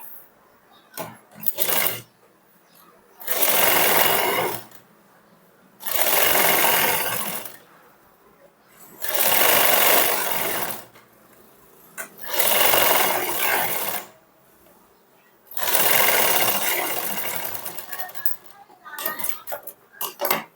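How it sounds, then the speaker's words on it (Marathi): Sewing machine topstitching along a set blouse sleeve after pressing, running in five or six steady bursts of a few seconds each with short pauses between, close and loud, with brief handling noises in the gaps. "आता आपल्याला परत एकदा याला दाबशिलाई मारायची"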